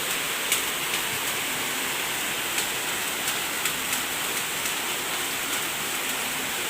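Heavy rain pouring down on a house under repair, a steady dense hiss of water with scattered sharper drops striking a surface, continuous and enveloping with no voices.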